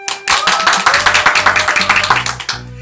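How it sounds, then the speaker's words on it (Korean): A group claps together in quick, sharp, rhythmic bursts at a children's church service, loud and close, with no talking over it. "박수!"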